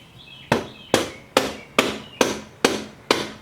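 A soft mallet strikes motorcycle chain parts while a chain and sprockets are being installed, giving seven sharp, evenly spaced knocks close up, each with a short ringing decay, and no talking.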